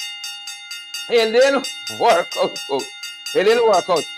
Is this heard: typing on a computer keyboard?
no